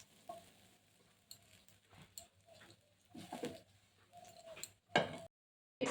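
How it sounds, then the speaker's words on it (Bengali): Bread slices toast in a pan and are flipped over, giving quiet, intermittent scrapes and soft clattering, with a pigeon cooing faintly in the background. "এইভাবে পাউরুটিগুলো সেঁকে নেব এপিট ওপিট করে সমস্ত পাউরুটিগুলো আমি সেঁকে নিচ্ছি"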